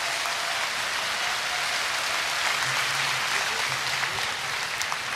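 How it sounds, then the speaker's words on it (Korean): A large audience applauds after a performance at a memorial concert for Jeju 4.3, producing a steady, rain-like wash of clapping that holds for several seconds with no speech. "다시 한번 큰 박수 부탁드립니다."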